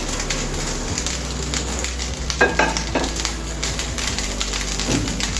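Paneer is stirred into fried rice in a pan, a continuous soft sizzle broken by scraping spatula strokes and light clinks, close and alone without voices.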